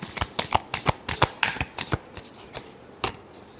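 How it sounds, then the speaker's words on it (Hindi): Tarot cards being shuffled by hand, a quick run of close, crisp riffling slaps and flutters in an uneven rhythm, heard alone without talk. "last shuffle"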